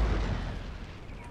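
A cannon firing in the video game Empire: Total War, a single heavy low boom that rolls out and decays over about a second, loud and close.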